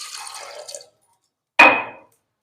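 A glass of water is poured over chickpeas for a pressure cooker: a short, close pour trickles for under a second, then after a pause a sharper splash follows and fades.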